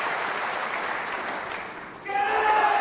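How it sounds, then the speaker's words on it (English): A snooker crowd at the 2011 UK Championship applauds the winning ball with dense, steady clapping throughout. Near the end, a clear voice-like tone rises above the applause. "And the crowd know that that's the winning ball, and they jump up"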